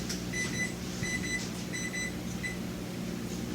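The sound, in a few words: kitchen oven timer beeping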